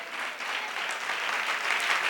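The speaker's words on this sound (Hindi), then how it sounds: "ताली बजा के खुदा के महिमा करे" A worship congregation claps hands together, a dense, steady wash of many overlapping claps that fills the room at an even loudness throughout, with no distinct voices standing out.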